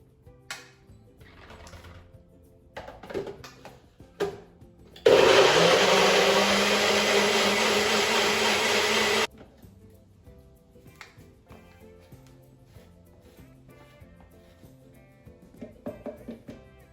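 A NutriBullet blender whirs loudly and steadily for about four seconds while blending raw vegan pudding, between quieter kitchen clatter and handling sounds before and after.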